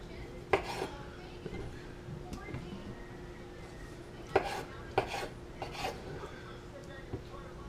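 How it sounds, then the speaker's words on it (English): A knife cuts through raw chicken on a board, giving scattered sharp clicks and soft scraping strokes, close and fairly quiet, with pauses between cuts. "I'm gonna cut here"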